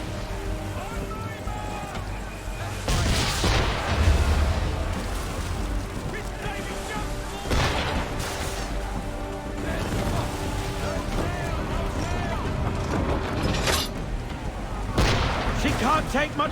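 Naval gunfire from a ship's small gun in Assassin's Creed III, with repeated sharp booming shots at irregular intervals over constant wind, waves and battle noise, and someone talking throughout.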